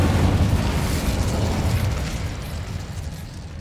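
Incendio fire spell cast in the video game Hogwarts Legacy: a loud, dense whooshing burst of flame with a deep rumbling low end, roaring steadily and then easing off slightly over a few seconds, with no talking.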